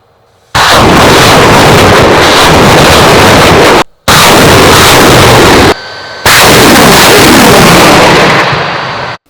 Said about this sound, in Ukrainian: стрільба агітаційними снарядами з листівками